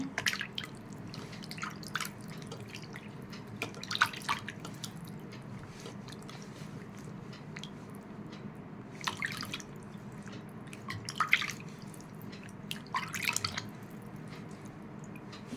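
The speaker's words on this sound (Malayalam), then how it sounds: "വെള്ളത്തിൽ കൈ കഴുകി" Hands being washed in a small amount of water during a home manicure, with soft sloshes and drips in scattered bursts over a quiet room, no talking.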